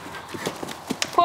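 A mare canters at a show trial, her hoofbeats thudding in a quick, even rhythm on soft ground, close by, with a brief tonal sound at the end.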